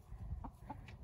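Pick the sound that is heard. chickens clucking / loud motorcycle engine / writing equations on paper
chickens clucking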